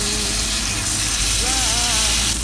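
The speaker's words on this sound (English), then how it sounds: "Go ahead and fry up these onions" Onions frying in a hot pan beside chicken pieces, a steady, close, broadband sizzle that holds constant throughout, with a brief faint tonal squeak midway.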